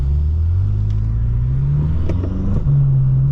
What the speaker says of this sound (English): I'm sure he wants to hear my car